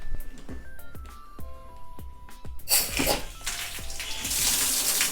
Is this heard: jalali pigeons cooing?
no